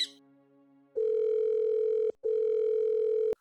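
A telephone dial tone sounds while a call is being placed, a steady electronic hum that starts after a short pause, cuts off briefly, then resumes before ending with a click.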